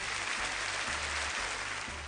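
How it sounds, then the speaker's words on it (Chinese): A studio audience claps steadily for contestants being introduced at an errenzhuan folk-performance competition, a dense, even wash of applause lasting about two seconds over a low hum. "掌声送给他们"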